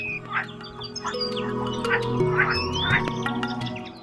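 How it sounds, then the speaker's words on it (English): Greenfinch and common linnet singing in North Cyprus: a run of bright chirps, twitters and short warbled phrases, fairly close, over a steady low background hum. "Greenfinch and common linnet are kinds of birds that sing out beautifully."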